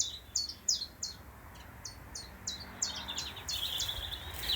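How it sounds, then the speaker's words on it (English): A robin sings a bright, repeated phrase of high chirps, fairly close, over a faint outdoor hush with distant insects along a canal towpath. "I think that's probably a robin."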